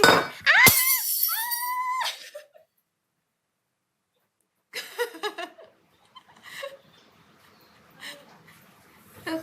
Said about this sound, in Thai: แก้วแตกค่ะทุกคน แตกละเอียดเลยค่ะ